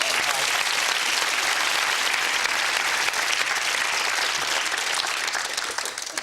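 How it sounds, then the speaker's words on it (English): A large crowd applauds steadily for several seconds, a dense, loud clatter of clapping that holds even and fades slightly at the end. "Round of applause for Mike."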